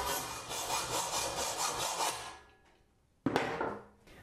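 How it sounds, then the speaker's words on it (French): A hacksaw rasps through a metal shelf rail in steady, even back-and-forth strokes for about two seconds. After a short pause, one more sharp stroke follows, close and fairly loud. "Coupez la crémaillère à la scie à métaux."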